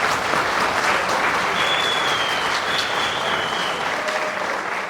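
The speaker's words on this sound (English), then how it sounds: "Please give me a round of applause." An audience at the British Hazara Award 2023 ceremony in Birmingham claps in a sustained, dense round of applause that fills the hall evenly from start to finish.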